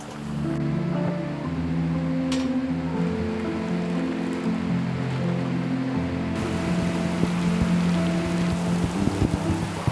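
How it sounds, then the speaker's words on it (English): Heavy rain pours down at a horse shelter, a dense continuous hiss of drops drumming on surfaces, growing rougher and fuller partway through, with a low hum underneath and no voices. "It is raining so hard."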